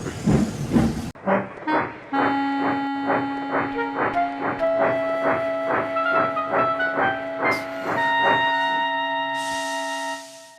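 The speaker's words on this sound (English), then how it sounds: "This train could give American locomotives a run for their money." A steam locomotive chuffs in a steady, regular rhythm with hissing steam and sustained whistle-like tones, fairly close and prominent.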